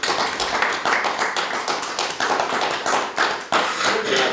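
An audience claps at a concert in Romania, a dense, steady patter of many hands with some louder individual slaps, continuing without pause and with no clear talk over it.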